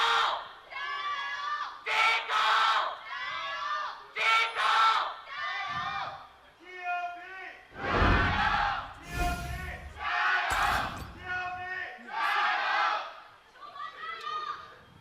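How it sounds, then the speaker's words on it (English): A large arena crowd of TOP fans at an LPL esports match cheers and shouts in rising, chanting waves, loud and sustained, with a caster's voice talking over the roar. "Still, the crowd cheers on."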